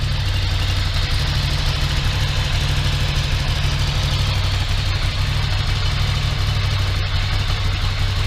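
A restored Ducati ST2 motorcycle engine idles steadily with a loud, even, throbbing low rumble, close up and alone for the whole stretch.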